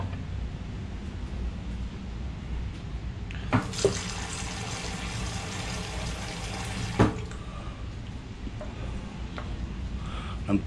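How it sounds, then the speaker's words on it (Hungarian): Water poured from a tap or jug into a pot of cabbage soup with frankfurters: a steady, close splashing stream lasting about three and a half seconds, with a couple of light clinks, over a low background hum. "Még teszünk hozzá vizet."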